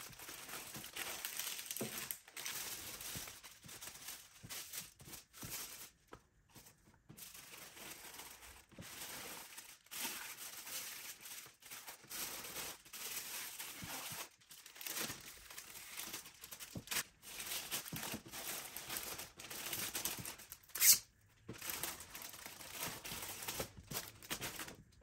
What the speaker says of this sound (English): I wrap each letter in tissue paper, then place it into a plastic bag for extra protection against dust and moisture